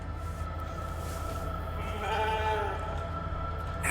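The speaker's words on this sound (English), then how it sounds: "Never thought I'd be so glad to see a sheep." Sheep bleating in the sci-fi video game The Alters, a wavering mid-pitched call rising over a steady droning game soundscape for a second or so.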